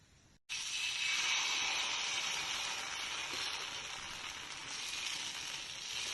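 Batter poured into a hot pan bursts into a loud, close sizzle that starts abruptly and holds as a steady hiss, slowly easing off without any voices.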